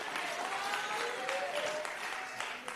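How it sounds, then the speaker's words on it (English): Applause from the crowd at the ANC National General Council, a steady patter of many hands filling the hall for under three seconds, with faint tonal murmurs riding underneath. "give real good applause to those who are doing good work"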